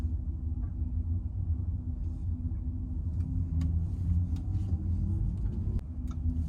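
A 2023 Audi e-Tron GT electric car pulls away in drive, giving a steady low synthetic hum and rumble from inside the cabin with faint ticks and road noise.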